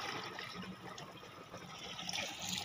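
Water pours steadily into a tank at a building construction site, a continuous broadband rush with faint trickling detail, moderately loud and close, with no talk over it.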